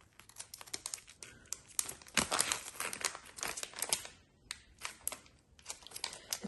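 The packaging of an acne pimple master patch being opened, with dense, close crinkling and crackling of plastic wrap in irregular bursts that continue throughout.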